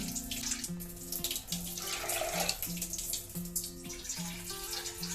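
Water runs into soaked dal in a pressure cooker for dal tadka, a steady splashing flow from a tap under a light hum.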